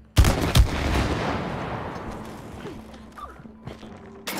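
Gunfire in a video game, two loud close shots at the start followed by a long decaying rumble and fainter scattered impacts.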